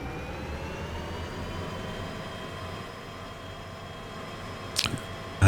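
A train locomotive in the video game Derail Valley idles and throttles with a steady low engine drone and a faint whine. A few sharp clicks come near the end.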